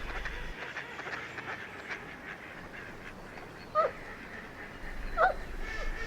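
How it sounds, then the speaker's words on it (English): Ducks give a couple of short, sharp quacks outdoors in a field, standing out against a steady hiss of ambient background noise. "Ducks are annoying you, aren't they? They can be rather loud."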